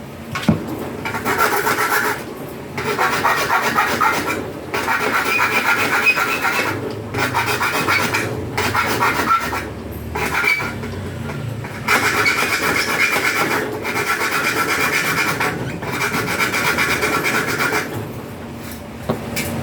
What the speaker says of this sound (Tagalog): Kikilan natin ng maayos yan para malinis.